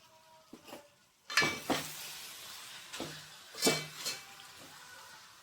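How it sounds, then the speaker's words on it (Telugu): A spoon scrapes and stirs through spices and chopped coriander in a pan of Telangana-style fish curry, a few distinct strokes with clinks against the metal over a quiet background. "అన్నీ వేసి ఒకసారి బాగా కలుపుకోవాలి"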